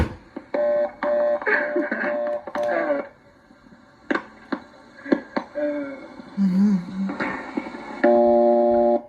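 A series of telephone tones and beeps, ending in a steady, continuous dial tone from a small 355 step-by-step exchange, heard clearly with no talking.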